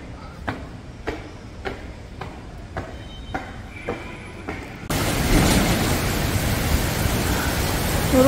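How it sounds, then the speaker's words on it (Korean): A sudden heavy rain shower on a hot day: a few sharp taps give way to a loud, dense, steady roar of downpour that sets in abruptly partway through and continues to the end. "비가 또 갑자기 엄청 오고 있어요"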